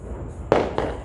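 Firecrackers popping on New Year's Eve in the Philippines, two sharp bursts about a quarter second apart over a low background hum, with no voices.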